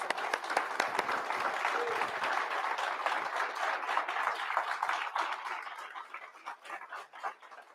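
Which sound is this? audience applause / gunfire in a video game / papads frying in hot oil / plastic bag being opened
audience applause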